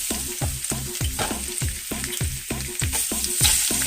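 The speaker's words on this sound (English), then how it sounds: "now we're going to take our pieces of fish here and just put them in the pan here" Salmon pieces fry in a pan with a steady close sizzle, while regular scraping strokes, about two each second, rasp and knock through the crackle. Nobody talks.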